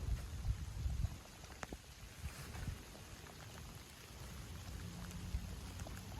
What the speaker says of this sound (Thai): นี่ก็ฝนก็ตกอีกแล้วเนาะท่านผู้ชม